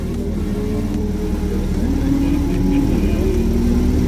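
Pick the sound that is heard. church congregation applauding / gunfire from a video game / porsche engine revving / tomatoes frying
porsche engine revving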